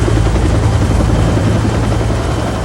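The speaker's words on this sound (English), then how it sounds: "A rescue helicopter from the Los Angeles County Fire Department arrived within 12 minutes." A Los Angeles County Fire Department rescue helicopter thrums loudly and close at hand, its rotor chop steady and continuous with no voices over it.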